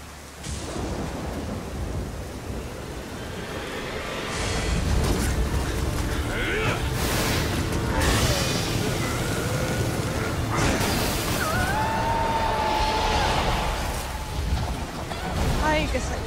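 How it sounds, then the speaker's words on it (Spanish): Heavy rain pours in the video game Nioh, a loud continuous downpour with thunder rumbling through it, while a player talks over the storm and game sounds. "La lluvia es muy fuerte"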